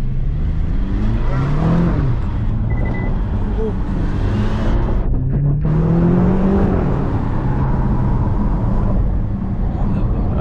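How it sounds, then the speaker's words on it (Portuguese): Car engine running steadily and rising in pitch as the vehicle accelerates, loud and continuous at close range, at a mansion in Paraguay. "O carro anda muito"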